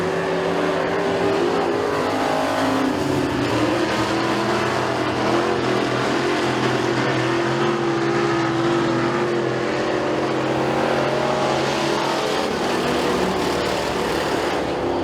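Race cars roar around the oval at McKean County Raceway, a loud, continuous wall of engine noise with steady droning and shifting pitch as the pack circles, no talk over it.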